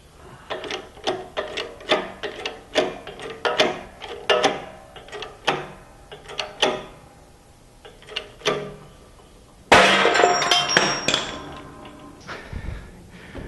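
A drill taper being pressed out of its socket with a half-inch bolt in a home workshop: a series of sharp metallic taps and clanks at an uneven rhythm, then a louder burst of metal noise near the end.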